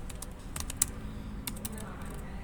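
Computer keyboard keystrokes while editing an Nginx web server config in a terminal editor, a quick irregular run of light clicks under a steady low hum.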